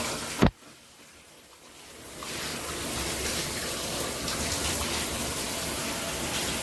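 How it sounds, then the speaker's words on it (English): An INAVAMZ handheld shower head sprays water after a brief click, the hiss building over a couple of seconds into a steady, loud, broadband rush that fills the rest of the time. "if you can see it, it comes through the shower head. It's called a rain foam."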